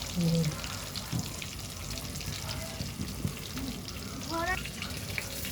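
Chicken pieces fry in a shallow layer of oil with a soft, steady sizzle, broken by a few clinks and splashes while a voice talks over it.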